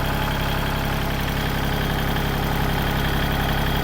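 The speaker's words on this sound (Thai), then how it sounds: "นี่เครื่องยนต์นะครับติดง่ายนะครับ เสียงเครื่องปกตินะครับ" A used Kubota L3608 tractor engine idles close by, a loud, even, unbroken diesel rumble with steady vibration and no speech.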